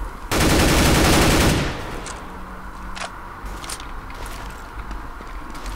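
Counter-Strike: Global Offensive gunfire, one loud sustained automatic burst lasting over a second, followed by quieter scattered shots and in-game ambience.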